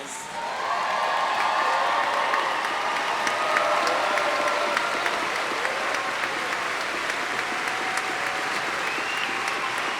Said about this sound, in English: I invite all who are able to please stand and give our graduates a final round of applause